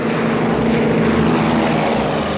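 A Beechcraft 1900 propeller commuter plane taking off from Charlotte, North Carolina, its engines a loud, continuous droning roar that fills the whole stretch without pause.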